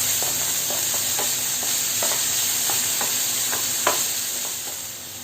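Chopped tomato cooks in a pan for an egg thoran, giving a steady sizzle under a bright hiss with soft scraping stirs scattered throughout. No talking.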